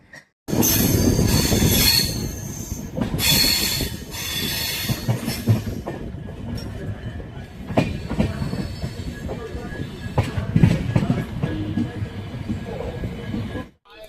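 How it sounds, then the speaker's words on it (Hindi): A train pulls into New Bongaigaon railway station on the Guwahati to Kolkata route, loud squealing wheels and rumbling carriages close by, fading slightly as it slows, with faint voices underneath. "तो ट्रेन अभी पहुंची है अपने तीसरे स्टॉप न्यू बंगाई गांव रेलवे स्टेशन पे"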